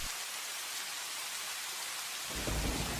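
Steady hiss of heavy rain throughout, with a deep low rumble swelling near the end like rolling thunder.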